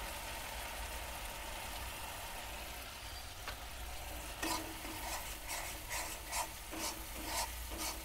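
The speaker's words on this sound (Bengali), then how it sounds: "মশলাটা ভালো করে কষে নেব।" Spice paste with red chilli powder being sautéed in a pan for a Bengali fish dish, a soft steady sizzle that turns into a run of rhythmic scraping strokes from a spatula stirring in the second half, close and fairly quiet.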